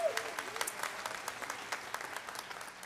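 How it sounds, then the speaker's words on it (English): Applause at a university investiture ceremony, a thinner, quieter patter of scattered clapping heard at some distance, with individual claps standing out in an uneven rhythm. "Please give them a big round of applause."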